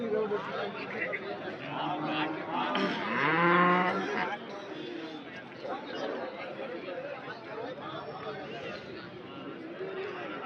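Native cattle moo loudly amid a busy outdoor crowd at the Anthiyur cattle market in Tamil Nadu, with people chattering and talking throughout the background noise.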